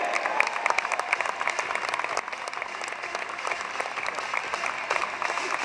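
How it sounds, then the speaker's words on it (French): A crowd applauds a motorcycle trial rider at an outdoor competition, dense sustained clapping that holds steady for several seconds with a faint voice somewhere underneath. "Loris, on va l'applaudir."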